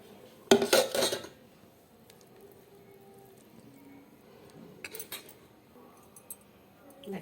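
An oil-greased metal plate for steaming semolina batter clatters sharply as it is set down, a brief loud rattle followed by near silence and a few faint clinks later on.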